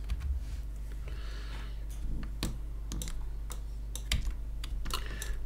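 Typing on a computer keyboard, irregular close key clicks and occasional sharper taps over a constant low electrical hum, with no speech.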